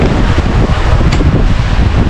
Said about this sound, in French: Je n'avais pas vu qu'il y avait autant de vent, moi.